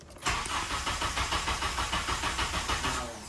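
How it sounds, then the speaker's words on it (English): Drift car with a suspected fuel pump fault cranking and starting, a loud, rapid, rhythmic churning of the starter and engine heard close up after a short quiet moment. "I'll start it and give it some gas."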